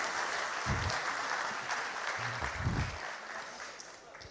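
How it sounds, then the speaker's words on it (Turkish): Steady applause rises from a seated audience at a commemoration program as guests are invited up beside a minister, even and continuous, with a couple of low thumps beneath it. "Sayın Turan Gençol Beyefendi, Sayın Bakanımızın yanına alkışlarınız eşliğinde bir kez daha davet etmek istiyoruz efendim."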